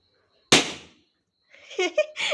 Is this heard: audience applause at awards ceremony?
no